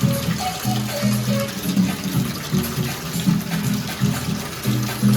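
Water runs from a kitchen tap during home dinner preparation in Chennai, a steady continuous gush that holds throughout, with a low rumbling hum and a few faint tonal blips underneath.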